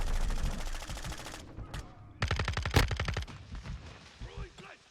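Rapid bursts of automatic gunfire from a run-and-gun weapon in the Modern Warfare II beta, sharp repeated cracks in two close volleys with a louder single shot, followed by softer game noise.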